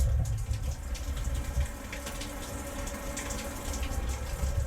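Water pouring steadily from a StoneStream shower head, a continuous close, moderately loud hiss and splatter with low rumble underneath and no talking.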